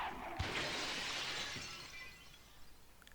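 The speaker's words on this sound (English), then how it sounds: "It pointed so hard the glass shattered." Glass shatters in the Breath of Fire III video game: a sharp crash that sprays into tinkling fragments and fades over about two seconds, with no talk.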